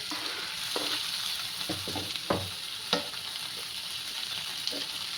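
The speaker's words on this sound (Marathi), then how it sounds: "आता कांदा थोडा परतला आहे, त्यात आपल्याला हे टमाटर टाकून घ्यायचं आहे." Onion sizzling and being stirred in a hot pan as tomato, green chili, garlic and ginger go in for a quick homemade tomato chutney, with a steady fry hiss and scattered spoon scrapes and clicks.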